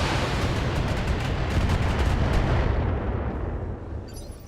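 Heavy mech weapons fire in the BattleTech video game, a loud, dense barrage of booming blasts and rumbling explosions that sustains for several seconds before tapering off.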